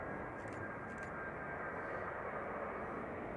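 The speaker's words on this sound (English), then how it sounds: "Touching down now is Swiss from Zurich." Swiss Airbus A220-300 from Zurich landing at Manchester Airport, a steady broad jet roar at moderate distance holding level throughout, with no distinct touchdown impact standing out.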